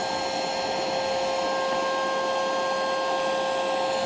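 A 50 PSI electric dual-motor pump for a stand-up paddle board blows air with a steady, loud whir and whine that holds an even pitch from start to finish, with no voices over it.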